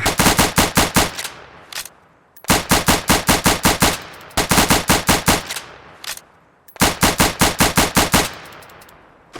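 M1A1 Thompson submachine gun fire in the Roblox game Operation Overlord: four loud close bursts of about eight rapid shots each, separated by brief pauses, with no voices.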